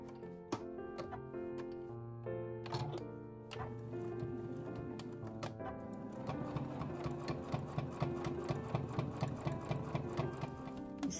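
Sewing machine stitching a tote bag made from tatami edging, bursts of rapid mechanical ticking that start and stop, then run steadily, close and clear.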